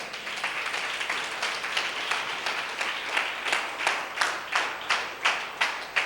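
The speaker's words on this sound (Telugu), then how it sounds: "గట్టిగా చప్పట్లు కొడదాం, గట్టిగా" A church congregation at a Sunday service claps in unison, a loud, steady rhythmic beat of roughly two claps per second that grows more regular and forceful toward the end, with no talking over it.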